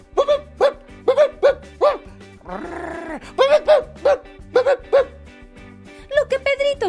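A dog barks repeatedly in quick clusters of sharp, loud yips, broken midway by a drawn-out whining growl, and then the bursts of barking resume.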